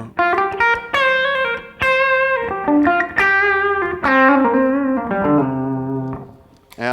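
An electric guitar runs through a modded JHS Tube Screamer overdrive set very low into a 1969 Fender Princeton Reverb amp. It plays a close, lightly driven melodic phrase of picked single notes and short slides, with ringing sustain between notes.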